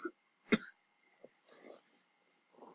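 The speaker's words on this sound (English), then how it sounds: "Sorry, I just got a cough there." A single short, sharp cough sounds up close, surrounded by quiet stretches and a few faint breathy rustles.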